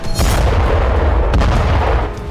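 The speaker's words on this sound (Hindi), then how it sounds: "धमाके के साथ धधकता हुआ आग का गोला" A vacuum bomb blast with a fireball in Bakhmut during the Russia-Ukraine war: a loud, sharp boom followed by sustained deep rumbling, with a second thud partway through.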